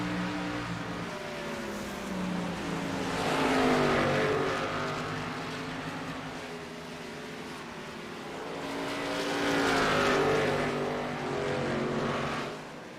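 Stock cars from a sim racing game's Xfinity-style series at New Hampshire roar down the backstretch, a steady engine drone that swells twice as the pack passes, loud and continuous with no talk.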